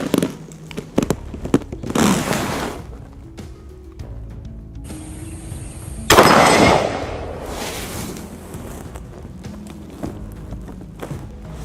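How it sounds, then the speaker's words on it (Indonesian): Long-barrel revolver fired at a target 50 meters away on a shooting range: two loud, sharp reports a few seconds apart, the second one strongest, over low background noise. "Selanjutnya kita akan coba menembak dengan laras panjang revolver 50 meter"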